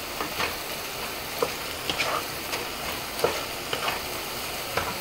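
Garlic is stirred and fried in a pan while preparing spiced rohu fish roe. A continuous soft sizzle carries on throughout, with regular light scrapes and taps of the spoon at moderate distance.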